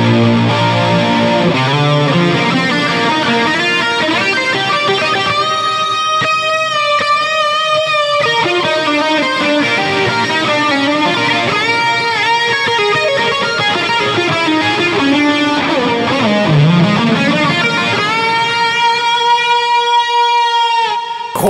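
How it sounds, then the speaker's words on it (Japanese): Electric guitar solo tone run through an Eventide H3000 detune alongside two delays and reverb, nearly fully wet, giving a thick, shimmering sustained lead with smeared repeats throughout, no talking. "先ほどギターソロ用に作った音色に、うん、H3000 がかかる、はい、ディチューン"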